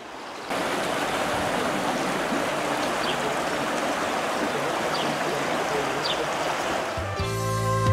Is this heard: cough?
no